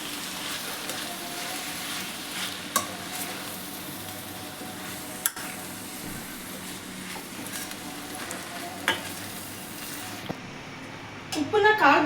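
A spoon scrapes and stirs grated coconut through Mandya-style upsaru in a pan with a soft sizzle underneath, a few sharp clinks against the metal, and no talking.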